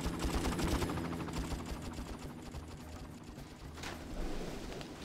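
Rapid automatic gunfire in Far Cry, a dense rattling stream of shots at moderate distance that eases slightly, then swells again near the end.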